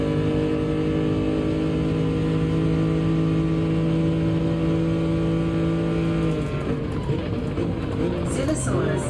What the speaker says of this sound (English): I think that car goes right by me, no problem.